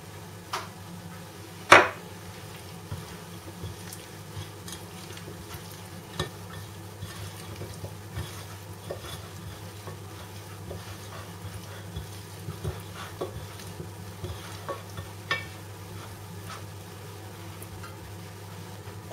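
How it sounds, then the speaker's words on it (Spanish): Floured, salted chicken pieces frying in hot oil give a steady, quiet sizzle with scattered soft pops and clicks, one sharp clack near the start. "iremos poniendo el pollo a freír hasta que se dore"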